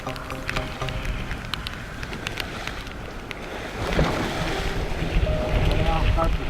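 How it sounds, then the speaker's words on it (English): Strong wind and high waves at sea around a voyaging sailboat after rain, heard as gusty roaring wind noise on the microphone with waves washing and surging, growing louder toward the end, with a voice faintly in the background. "The rain has stopped, but the wind and waves are still high."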